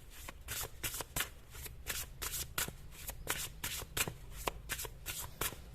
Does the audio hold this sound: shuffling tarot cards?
yes